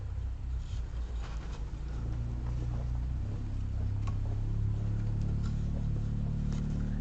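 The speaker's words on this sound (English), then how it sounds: "Somebody's out there on their 4-wheeler riding." A four-wheeler ATV rides somewhere outside, heard indoors as a steady, low, distant engine drone that grows slightly louder partway through, with faint ticking on top and no speech.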